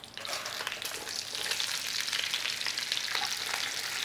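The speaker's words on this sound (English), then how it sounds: "Put the cabbage in and leave it. See if we can tinge up the cabbage." Cabbage frying in a hot stir fry pan for a sticky chicken and cabbage stir fry, a continuous bright sizzle with crackling, close and steady with no speech.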